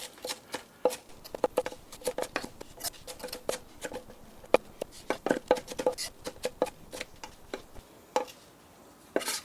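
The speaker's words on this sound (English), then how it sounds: "Again, mince, mince, mince." A knife mincing food on a cutting board, rapid uneven taps and chops clustered in quick bursts, close and fairly quiet with no talk.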